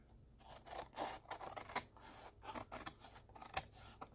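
Scissors snip through magazine paper for handmade art trading cards, giving a quiet, close, irregular series of crisp cuts and scraping rustles without talk.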